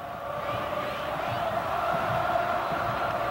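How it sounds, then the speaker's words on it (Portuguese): Botafogo fans in Maracanã stadium singing and celebrating before a Campeonato Carioca final, a distant massed crowd chant with rhythmic pulses, steady and moderately loud. "Olha a festa da torcida do Botafogo, confiante, cantando já há muito tempo aí"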